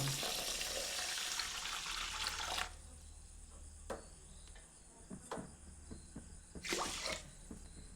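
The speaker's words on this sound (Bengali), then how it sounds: "এরপর ভালো করে একবার এই চিনি রসটিকে ফুটিয়ে নিচ্ছি" Sugar syrup for rasgulla heating in a pot: a bubbling, hissing simmer at first, then quieter with scattered pops and small clinks, close and with no talking.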